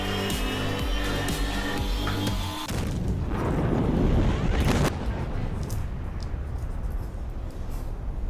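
A big rumbling blast from an antimatter container explosion in Kerbal Space Program erupts over game music, with a deep roar that swells and then slowly fades into a lingering low rumble.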